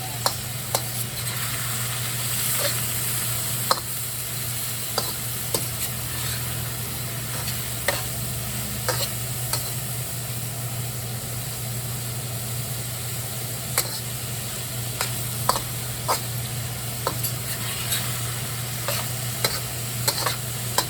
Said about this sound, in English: So this is how we do our vegetable stir fry.